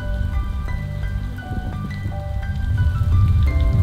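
A January rain downpour drums steadily on surfaces outdoors, loud and continuous, with scattered heavier drips and a thickening wash of rain toward the end.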